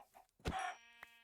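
Minecraft chickens cluck in a couple of short, quiet bursts with a gap between them, no speech.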